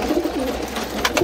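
Pigeons in a loft coo with low, rolling, throaty calls that repeat over a steady noisy background, close by, with a few faint higher chirps near the end.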